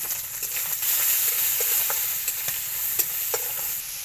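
Raw prawns seasoned with salt and turmeric frying in a little oil in a pan, a constant close sizzle broken by light scraping taps of a spatula stirring.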